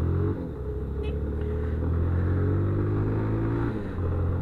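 A motorcycle rides through street traffic with a loud, continuous low engine rumble that rises and falls slightly as the rider moves along, mixed with road noise and some background chatter.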